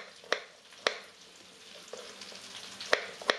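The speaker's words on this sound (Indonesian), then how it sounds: "Sesekali mengaduk bumbu-bumbu yang kita tumis." Spices and sliced carrots sizzle steadily in a pan as they are stir-fried, with a few sharp clacks of the spatula striking the pan.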